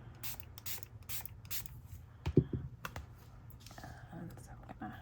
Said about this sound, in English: Then I'm going to give it a light misting of water before we spray